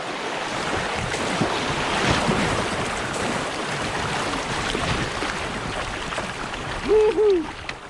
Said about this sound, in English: I think we've come to the rapids that they talk about.